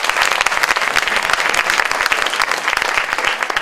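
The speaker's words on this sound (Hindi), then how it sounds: "जोरदार तालियां दोस्तों।" Enthusiastic applause from a crowd, dense and loud, with many hands clapping steadily throughout.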